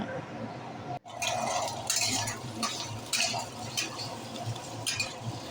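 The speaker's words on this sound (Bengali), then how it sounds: "আলুগুলো একটু লাল লাল করে দেখো ভেজে নিচ্ছি" Potato pieces frying in a pan until reddish for a home-style egg curry, a continuous sizzle broken by stirring scrapes and light clinks of a utensil against the pan, fairly quiet and close.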